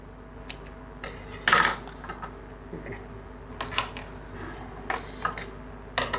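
Scissors snip through double-sided tape meant for mounting a chin mount on a helmet, a few close, crisp cuts with faint handling clicks in a quiet room.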